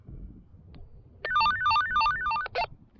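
A handheld walkie-talkie in call mode plays a bright electronic ringing melody, a rapid warbling tone sequence lasting about a second and a half, close and clear over faint background noise.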